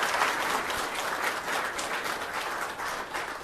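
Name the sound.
applause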